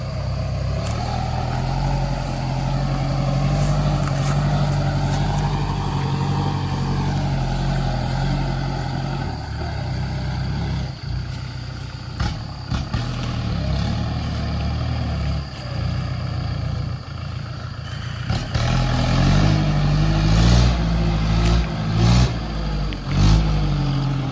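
A vehicle engine runs hard at high revs, its pitch rising and dipping, with rattling mechanical noise and bursts of louder revving toward the end.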